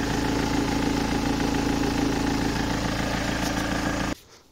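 A BMW car engine idles with a steady, even drone and a low rumble at close range, running constantly until it cuts away near the end.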